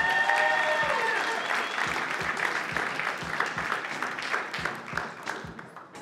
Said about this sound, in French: Applaudissez le cégep de Granby